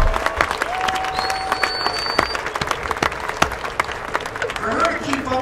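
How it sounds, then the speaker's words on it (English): A crowd applauds at an outdoor marching band festival, with steady clapping and scattered cheers throughout while a voice speaks over it. Faint whistles or tones sound briefly in the background. "How about one more round of applause for Hitomi Kanemaru?"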